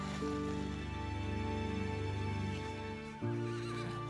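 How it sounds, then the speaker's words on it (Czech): A Yakutian horse in the frozen Oymyakon region gives a long, loud neigh, a harmonic whinny that stutters and resumes near the end, close to the listener with no talk. "Je to proslulý jakutský kůň."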